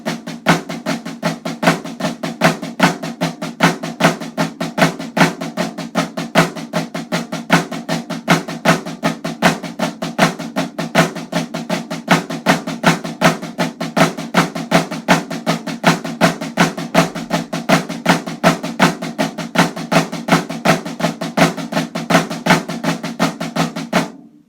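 Snare drum rudiment exercise built on inverted flam taps, played in straight sixteenth notes with accents, a dense, fast, unbroken stream of crisp strokes at even volume for the full length.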